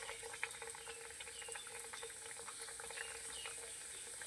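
Flour-dough snacks frying in hot oil give a quiet, steady bubbling sizzle with faint crackles throughout, no voices.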